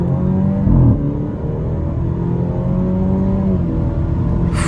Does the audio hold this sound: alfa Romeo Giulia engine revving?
yes